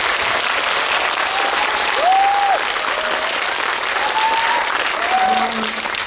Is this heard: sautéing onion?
no